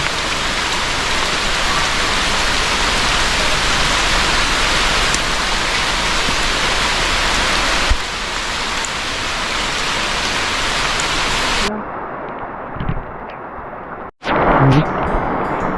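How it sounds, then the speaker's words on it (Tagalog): Steady heavy rain pours down beside a river in Surigao, a dense continuous hiss that runs loud for most of the stretch, then breaks off into quieter moments with a few faint knocks near the end. "umuulan naligo na tuloy tayo"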